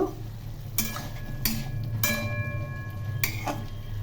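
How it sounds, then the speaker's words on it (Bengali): Potato and pointed gourd curry with salt and turmeric stirred and fried in a pan over medium heat, a steady low sizzle broken by several loud spoon scrapes at irregular intervals. "এখন খুব ভালো করে কষিয়ে নেব"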